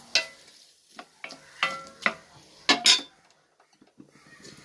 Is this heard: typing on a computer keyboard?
no